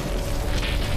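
A loud, deep rumbling explosion from the fighting game Mortal Kombat X, a sustained low boom filling the whole moment with a brief brighter burst partway through.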